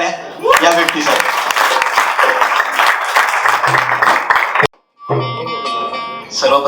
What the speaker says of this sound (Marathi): एकदा जोरात टाळ्या या व्यक्तीसाठी